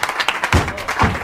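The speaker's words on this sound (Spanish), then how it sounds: "Un fuerte aplauso." Brief bursts of audience applause for a comic act with a donkey on a variety show, uneven and close, with a couple of heavier low thumps.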